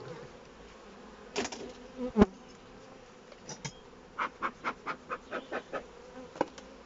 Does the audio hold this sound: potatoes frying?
no